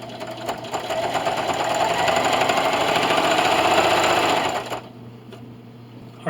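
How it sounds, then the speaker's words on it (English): A sewing machine stitches a quilt in one continuous close, loud mechanical whir that holds steady for several seconds and then stops abruptly, leaving a faint hum. "And continue to sew."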